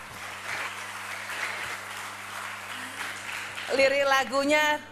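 An audience at a school program launch applauds the minister, with steady crowd clapping over a low electrical hum, and a voice begins speaking near the end as the clapping continues.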